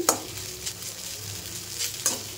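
Maggi noodles stir-fried in a pan, a close sizzle broken by a few quick scraping stirs of the utensil against the pan, no one speaking.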